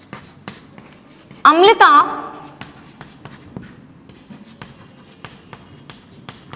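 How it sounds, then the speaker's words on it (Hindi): A teacher writes on paper with a pen, a brief burst of scratchy strokes lasting about half a second midway through, while she keeps talking during a chemistry lesson. "मैं बोल भी रही हूं लिख भी रही हूं, साथ साथ लिखते जाइए।"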